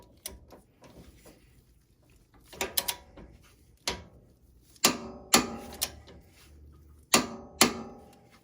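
A wrench ratcheting a ball joint nut tight on an upper control arm of a third-generation Toyota 4Runner, giving a series of sharp, close metallic clicks and clacks in uneven clusters.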